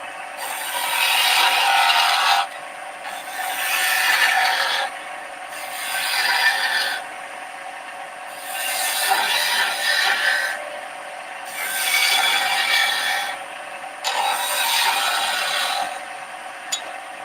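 A hand gouge cuts a cove into a flat piece of wood in steady, rhythmic scraping strokes, each about a second long with brief pauses between, close and moderately loud with no talking.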